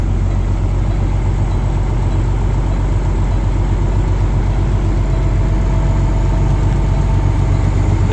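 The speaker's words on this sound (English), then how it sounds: "This is a 2008 Kenworth T800. It's got an ISM Cummins, 425 horsepower." A 2008 Kenworth T800 truck with a 425-horsepower Cummins ISM engine idles close by, a loud, steady, deep diesel rumble that holds unchanged with no voices.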